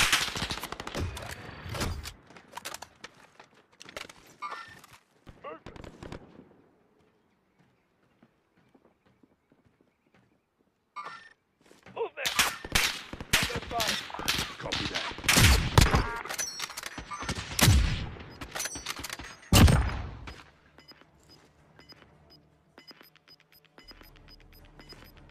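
Gunfire in Call of Duty Warzone, sharp bursts of rapid shots in clusters, with a quiet gap in the middle before louder, heavier volleys and booming impacts, followed by a faint tail.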